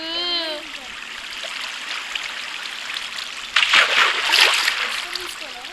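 Flowing water in the video game Minecraft, a steady trickling stream with a louder splashing burst near the end, running continuously under brief voice sounds at the start.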